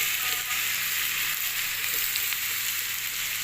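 Garlic frying in hot ghee gives a steady, moderately loud sizzle close by, an even hiss throughout with no voices.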